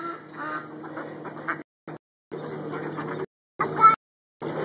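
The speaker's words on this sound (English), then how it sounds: "Look at all the ducks, Kay." Ducks quacking repeatedly at close range in choppy bursts, with short gaps of silence between them.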